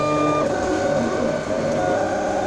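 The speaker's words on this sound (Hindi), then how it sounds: "देखिए कितना बड़ा प्रिंटर है और इसके ऊपर ये मेरा नाम ड्रॉ कर रहा है।" A large plotter-style printer with a cutter draws a name for a car decal, giving a steady, dense mechanical whir with faint tonal motor whines throughout.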